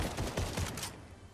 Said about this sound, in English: Gunfire coming from behind us.